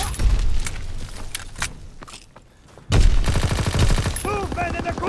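Gunfire in the World War II shooter game Call of Duty WWII: bursts of rapid shots and sharp cracks, a brief lull, then renewed heavy firing with combat noise, and voices shouting over it.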